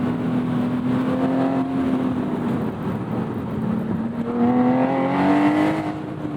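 A Porsche Boxster Spyder convertible with a 4.5L DeMan engine, top down, revving and accelerating up close, its pitch sliding down then climbing again under a rumbling exhaust.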